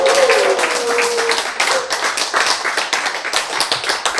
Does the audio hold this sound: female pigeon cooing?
no